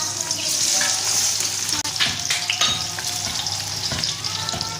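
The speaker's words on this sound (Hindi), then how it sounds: "ये घी हमने डाल लिया कढ़ाई के अंदर, तो ये हम भिंडियाँ मसाले वाली डालते हैं।" Masala-stuffed okra drops into hot ghee in a kadai and fries with a loud, steady sizzle, broken by scraping stirs and a few clatters of the spoon against the pan.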